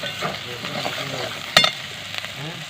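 Masala spices fry and sizzle in a pan as they are stirred, a steady close crackle with brief louder scrapes partway through.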